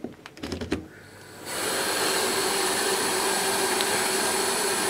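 A new water fogger switches on after brief handling clicks, then runs with a steady, loud broadband hiss and whir that holds constant to the end, close by and with no talk over it.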